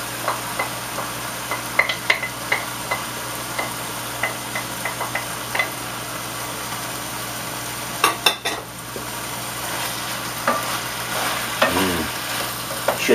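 Chicken, finely chopped white onion and minced garlic fry steadily in a pan, a constant sizzle dotted with light ticks and occasional utensil clicks, with no voices.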